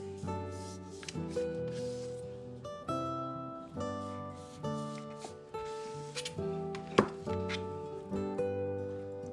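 A knife slices through a log of rolled cinnamon roll dough on a cutting board, giving a series of soft, evenly spaced cuts with faint thuds against the board, up close and without talk.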